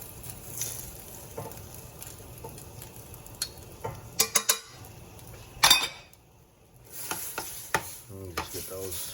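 Fettuccine noodles are stirred into alfredo sauce in a pan, with scraping clicks of a utensil against the pan, soft sizzling underneath and a few sharper clanks, close by with no talk.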